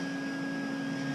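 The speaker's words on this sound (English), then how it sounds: "Can you hear him? That's the sound of a grinder" An angle grinder and a vacuum run during fiberglass repairs on a boat, a steady droning whine with a constant high tone, continuous and moderately loud with no talk.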